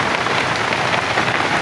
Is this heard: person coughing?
no